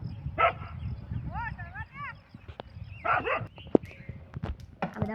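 A dog near buffalo sheds in a rural village barks in short bursts and whimpers a few times, with footsteps and chatter around it.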